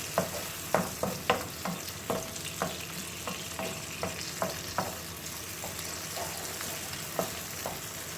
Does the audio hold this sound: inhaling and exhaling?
no